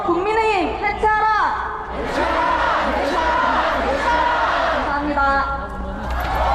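Crowd at a December 2024 candlelight protest rally in Korea chants a slogan together, loud massed voices rising and falling for several seconds in a reverberant outdoor setting.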